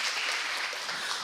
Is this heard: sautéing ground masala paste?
no